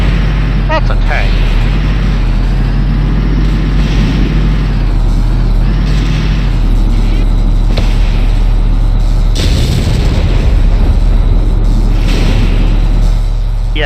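Mortar shells burst in the Valkyria Chronicles video game, with dull booms rising over a steady low engine-like drone and game ambience, one heavier blast standing out near the end.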